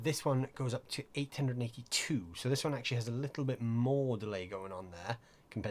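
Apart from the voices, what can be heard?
No everyday noises stand out.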